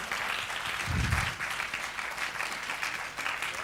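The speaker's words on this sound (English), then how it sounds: "Please give them a huge round of applause." Audience applause at an event in Kalinga Hall: sustained, dense clapping fills the whole stretch at steady loudness, with a brief low thump near the start.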